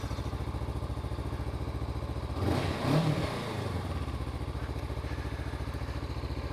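A brand-new 2021 Honda CB500X adventure motorcycle with one mile on it idles steadily, then blips its throttle in a short, louder rev around the middle before settling back to a close, even idle.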